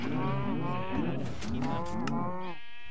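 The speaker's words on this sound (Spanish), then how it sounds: "un poco de matanza de vacas que ya me dio hambre" A cow in Minecraft, a close run of repeated, drawn-out synthetic moos with a rising and falling pitch, heard alone without talk.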